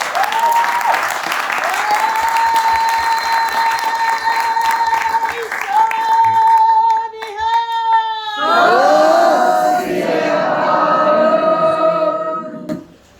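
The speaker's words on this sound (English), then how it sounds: "Let's give them a round of applause." Audience applause for children's kirtan players from a nursery school at a Vaisakhi celebration in Parliament, steady clapping that blends with sustained, tuneful instrument and voice tones before fading out.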